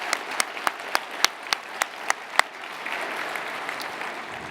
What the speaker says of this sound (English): a round of applause for Brandon and Mike for taking this on